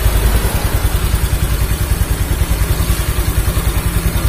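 An automatic scooter engine low on oil runs steadily up close, its loud rhythmic putter carrying a rough, grinding rattle throughout.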